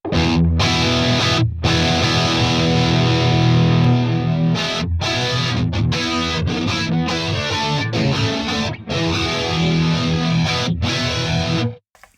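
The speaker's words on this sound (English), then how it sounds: "You can hear that the stereo doubler is based on chorusing, modulation" A distorted electric guitar through a Headrush pedalboard's stereo doubler plays chords and riffs with a wide, shimmering chorus-doubled sound, loud and continuous with brief stops between phrases.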